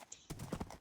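Horse hooves clip-clop in Minecraft, a short quick run of hollow knocking steps, close and moderately loud, with no talk.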